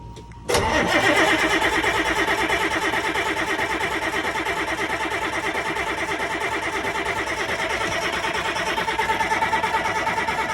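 A diesel engine with an injector pump cranks briefly, then fires and catches, settling into a loud, steady, rapid running clatter that continues close by with no talk.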